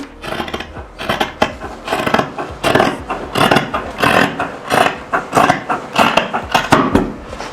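Scissors cutting out a paper blouse pattern, giving a steady run of rustling, rasping snips close up, repeated rhythmically throughout with no talking.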